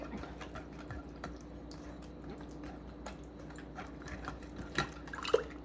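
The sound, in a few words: whey dripping from fermented kefir grains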